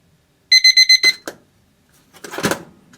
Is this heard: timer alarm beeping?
yes